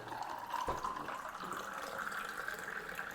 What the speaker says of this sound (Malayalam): ഇനി നമ്മുടെ കരിമ്പിനെ വെള്ളം ഒഴിക്കാം